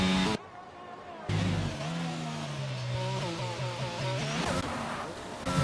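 A racing-sim race car engine, McLaren or Ferrari, on the Austria circuit, revving hard and climbing through gear changes as it passes close, with loud, rising and falling engine pitch.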